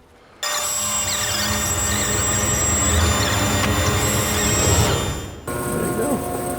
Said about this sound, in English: just going to sand this side with my drum sander